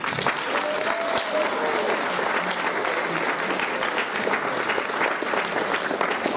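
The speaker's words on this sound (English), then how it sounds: "Another big round of applause for Miss Mariana, who" Audience applauding at a school play, a dense, steady clapping from a full room that fills the whole stretch at even loudness, with no speech over it.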